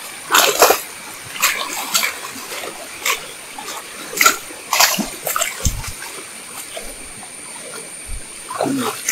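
Water splashing in repeated bursts as someone wades across a stream near a river, with uneven steps and short pauses, close and fairly loud over a faint background flow.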